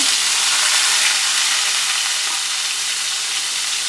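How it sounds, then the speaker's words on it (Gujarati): Cumin seeds and asafoetida hit hot oil for spinach khichdi, giving a loud, steady, bright sizzle and hiss that holds evenly throughout with no voices. "એક ટેબલ સ્પૂન જેટલું આપણે અંદર જીરું એડ કરી દઈશું અને માપ પ્રમાણે થોડી આપણે અંદર હિંગ એડ કરી દેવાની છે"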